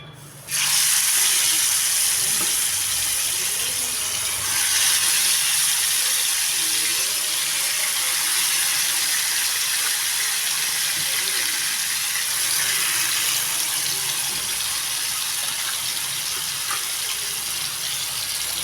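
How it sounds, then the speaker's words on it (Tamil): Kannadi parai fish frying in hot oil in a pan gives a loud, continuous hiss of spitting oil that surges after a few seconds and holds steady at close range. "எண்ணெய் சூடு வந்ததும் மீனை எடுத்து வச்சிடலாம்"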